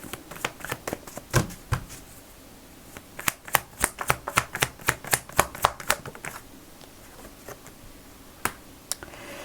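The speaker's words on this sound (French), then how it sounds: "Je tire avec votre tarot la suite" Tarot cards being drawn and shuffled close up in a quiet room, a series of crisp, sharp card flicks and snaps clustered in a quick run mid-way, with scattered softer taps before and after.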